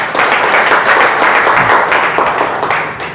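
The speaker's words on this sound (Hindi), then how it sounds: "तो एक बार चाहेंगे सर के लिए जोरदार ताली होना चाहिए।" Applause from an audience at a Renatus Wellness meeting, a dense, loud burst of clapping that rises and holds for about three seconds before fading slightly.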